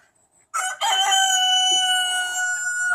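A rooster, the flock's bossy lead cock, lets out one loud, close crow that starts abruptly after a brief quiet and rings out in a long sustained call.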